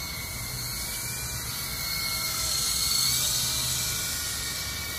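Steady high-pitched whirring of a Syma S37 2.4 GHz 3-channel toy remote control helicopter's rotors and motor, continuous and fairly loud, swelling slightly midway with no voices.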